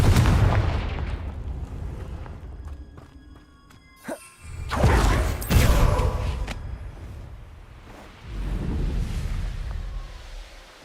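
A Confringo spell explosion in a video game: a quick whoosh followed by a heavy booming burst, then further rumbling blasts over a cluttered background.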